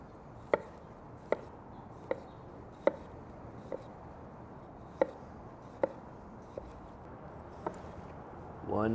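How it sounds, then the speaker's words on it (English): A knife slicing potatoes thinly, around 1/8 inch, on a board: a steady series of sharp, crisp taps about once per second, close and clean with a quiet background, and a brief louder rustle at the end. "We want to go pretty thin on these potato slices, about 1/8 of an inch."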